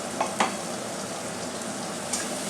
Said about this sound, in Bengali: যতক্ষণ পর্যন্ত না টমেটোটা গন্ধ হচ্ছে ততক্ষণ পর্যন্ত নাড়াচাড়া করবো